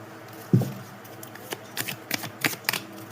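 Tarot cards being shuffled by hand, a short riffle burst followed by several soft, scattered flicks and slides of the cards, close and fairly quiet, with no talking.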